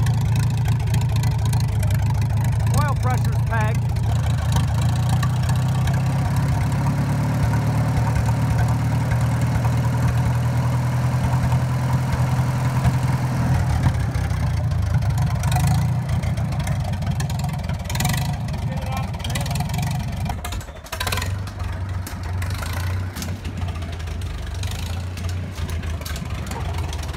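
A Farmall Super M tractor engine running steadily at idle, with a continuous low rumble that stays loud and close throughout and shifts slightly in tone partway through, while people talk briefly.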